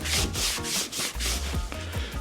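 A dry rag rubs tint solution off a 2017 BMW X6 car window, giving steady, close scrubbing strokes in a repeated back-and-forth rhythm with no talk.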